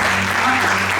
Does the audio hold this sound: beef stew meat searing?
no